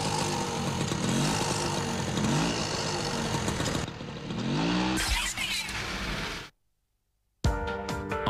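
A motorcycle engine in the PlayStation racing game Moto Racer 2 revs and roars continuously with rising and falling pitch, loud and close, then cuts to a brief silence before another burst of engine noise.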